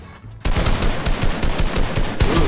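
Rapid bursts of video game gunfire during a competitive first-to-three match, dense repeated shots crackling loudly and nearly continuously with brief gaps, no speech.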